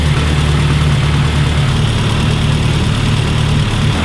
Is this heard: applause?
no